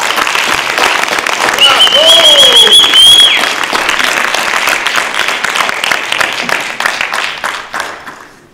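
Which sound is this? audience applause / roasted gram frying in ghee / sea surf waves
audience applause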